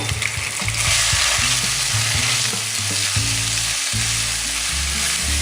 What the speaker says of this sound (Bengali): মশলাটাকে আমি একটু ভেজে নেব।